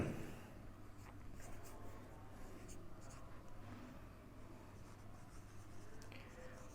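Marker or chalk writing on a board during a physics class on electrostatics, steady scratchy strokes continuing throughout over a low constant hum, with no talking.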